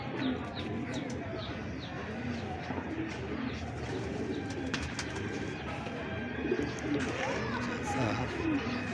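Homing pigeons coo softly in a loft, a low murmuring chorus with occasional chirps beneath people talking nearby.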